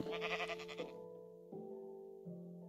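Sheep in Minecraft bleating, a short wavering bleat followed by trailing tonal game sounds, fairly faint and alone without talk.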